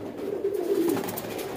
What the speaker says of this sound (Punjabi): ਚੌਂਤੀ ਨੰਬਰ ਕਬੂਤਰ